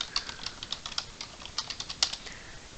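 A terminal command typed on a computer keyboard, heard as a quick uneven run of close, crisp key clicks with short pauses between bursts.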